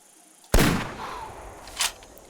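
One sharp, loud gunshot from the game Bushrangers Run cracks out early and rings off in a long decaying tail, followed by a fainter second report.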